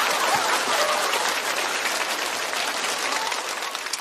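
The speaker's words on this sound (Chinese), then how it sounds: "掌声送给小周。" A stand-up comedy audience breaks into sustained applause, dense steady clapping and cheering that fills the room at full loudness for the whole stretch with no talk.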